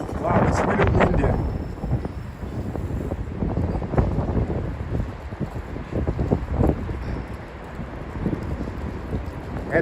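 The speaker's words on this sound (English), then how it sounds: "it's really windy" Strong wind on a Friday night street in St Petersburg, Russia buffets loudly against the microphone, with gusty rumbling and muffled movement, and a voice speaks briefly beneath the roar.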